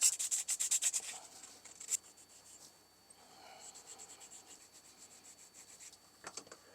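Scratchy rubbing as the inside of knife handle scales is roughed up before epoxy: a quick burst of close rhythmic scraping strokes, then softer, fainter rubbing with a short sharp flurry near the end, no talk.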